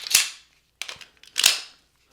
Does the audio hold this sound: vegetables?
no